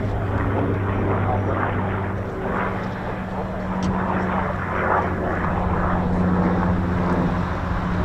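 A BBMF Spitfire PR. XIX, a Second World War RAF propeller aircraft, flies past with a steady, loud engine drone that holds for the whole stretch, swelling and easing slightly.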